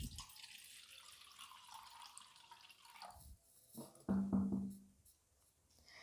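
Water running from a tap into a vessel while making lemon sherbet, a light trickle that briefly gushes louder before stopping.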